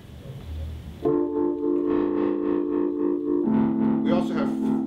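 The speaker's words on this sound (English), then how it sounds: "We have overdrive, distortion, and fuzz." A guitar played through Ableton Live 10 virtual stomp-box pedals for overdrive, distortion and fuzz rings out with sustained, saturated chords, switching to a new chord partway through, loud and close after a brief stretch of room noise.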